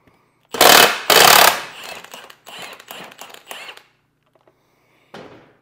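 A power tool loosens a 24mm nut on a motorcycle wheel, firing two loud rattling impact bursts close up, then several shorter buzzing pulses. A final brief burst comes after a pause.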